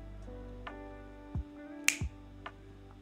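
A few crisp finger snaps, close and distinct, spaced irregularly against a low steady hum.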